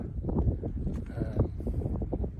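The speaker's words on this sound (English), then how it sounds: "Touch windy." Steady wind buffeting with low rumbling gusts on the Kungsleden mountain trail in Swedish Lapland, fairly loud and close, with faint rustling and no speech.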